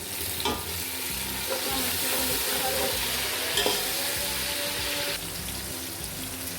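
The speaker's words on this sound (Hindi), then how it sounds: "तो अब हम इसके अंदर ये जो हमारे पास टमाटर हैं ये शामिल करते हैं।" Tomatoes hit a pan of golden fried onions for chicken yakhni pulao, producing a bright, busy sizzle with spoon scrapes and taps, close and steady, easing slightly toward the end.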